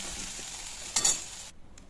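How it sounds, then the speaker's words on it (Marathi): Cauliflower and potato are stir-fried in a wok, giving a close, steady sizzle with stirring scrapes and a brief louder burst near the middle, before it suddenly drops away at the end. "परतून घेऊया व्यवस्थित कढईमध्ये।"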